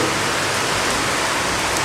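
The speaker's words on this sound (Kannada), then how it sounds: "ಅಷ್ಟು ಬೇಗ ಒಂದು ಗಾಳಿ ಮಳೆ ಬಂತು" Steady rain pours down in a dense hiss, with gusting wind mixed in, constant and fairly loud across the short stretch.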